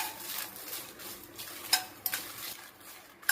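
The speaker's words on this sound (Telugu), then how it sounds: "ఇప్పుడు ఎండుమిర్చి ఫ్రై చేద్దామండి" Dry red chillies fry in oil in a pan while a spoon stirs them. There is a soft, quiet sizzle, broken by a few sharp clinks of utensil against metal.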